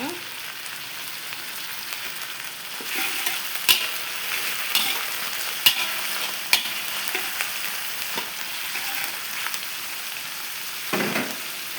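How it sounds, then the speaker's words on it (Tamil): Garlic, ginger, curry leaves and tomato sautéing in a pan for a bottle gourd dhal, a steady low sizzle broken by a few sharp clinks and scrapes of a stirring spoon, with no talking. "அடுத்தது கருவேப்பிலையும் தக்காளியும் சேர்த்துக்கலாம் ஃப்ரெண்ட்ஸ். நல்லா வதக்கலாம். நல்லா வதக்கிக்கோங்க."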